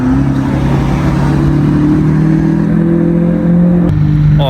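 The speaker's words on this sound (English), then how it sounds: "we have our second Porsche GT3 RS. Well, this one's very, very loud." A Porsche GT3 RS supercar on a London street makes a loud, sustained engine drone that holds steady and close for several seconds before shifting pitch near the end.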